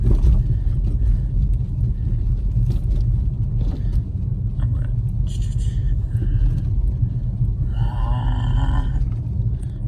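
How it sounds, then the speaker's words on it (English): A car drives along a road, its engine and tire rumble steady and close throughout, with a few faint higher chirps near the end and no talking. "let's get some speed up. Really see how this car can handle."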